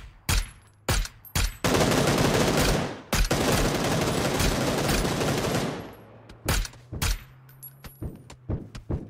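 Video game gunfire with vehicle physics in play: a sustained loud burst of automatic fire lasting a few seconds, framed by scattered single and double shots before and after, close and punchy with no talk.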